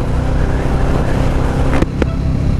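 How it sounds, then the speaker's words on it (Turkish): Suzuki TL1000R motorcycle engine running loud and close, a steady throaty rumble with a brief blip of revving near the end, no voices. "Az önce de motoru biraz gürlettim ki bir arkadaş soruyordu Instagram'da, abi bunun sesini ne zaman duyacağız diye."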